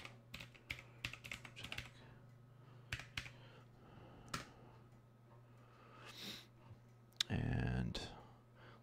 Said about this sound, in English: I'll type in my password again.